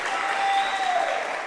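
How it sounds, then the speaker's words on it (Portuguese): Church congregation applauding during a worship service, a brief, even burst of many hands clapping together that stays steady and close for its short length. "Aplauda Jesus, amém."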